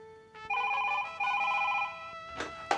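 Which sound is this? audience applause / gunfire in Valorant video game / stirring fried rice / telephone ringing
telephone ringing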